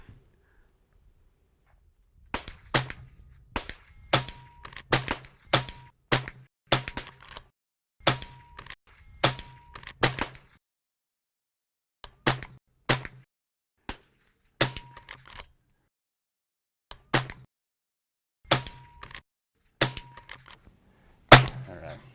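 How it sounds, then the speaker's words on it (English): Rapid gunshots fired at rows of shooting targets, sharp cracks in quick clusters with brief pauses between strings, some shots followed by the faint ring of struck targets, loud and close. "We start shooting and they're like blasting away."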